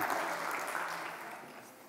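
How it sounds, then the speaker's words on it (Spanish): Audience applause for a speaker at a panel conversation on regulation and legislation, a dense patter of clapping already underway that gradually fades over about two seconds. "un aplauso para él"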